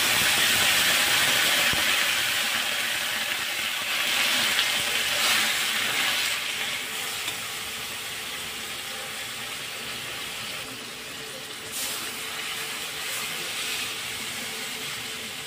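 Water poured into a hot pan of turmeric-coated vegetables and fish curry, giving a loud, steady broadband hiss and sizzle that gradually settles over several seconds, with no talking.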